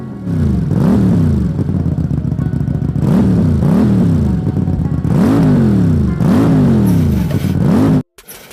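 A 300cc V-twin cruiser motorcycle engine revs up loudly in repeated bursts, rising and falling about every two seconds, then cuts off abruptly at the end.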